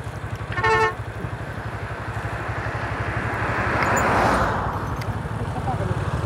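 Motorcycle ride along a road: a steady, close engine drone throughout with a short car horn honk near the start and passing traffic swelling midway; no clear speech.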